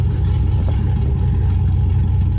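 A gas truck engine revs and rumbles loudly up close through an exhaust with a large 11.25-inch tuba tip, its deep exhaust note steady and throaty throughout.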